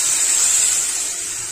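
Water poured into a hot pan of curry after the spices are fried, giving a loud, steady steaming hiss and sizzle that fades slightly toward the end of the short burst.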